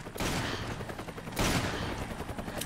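Sustained bursts of rapid gunfire from the video game Resident Evil 5, loud and continuous for nearly three seconds with a second heavy volley midway and no voices.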